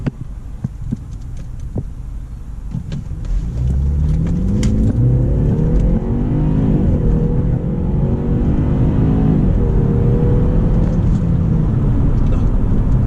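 A BMW 530i G30 with a 2-litre engine, set to sport mode, idles with a low hum and then pulls away from a standstill. The engine stays loud and steady, with a rising, throbbing note as the car accelerates from inside the cabin.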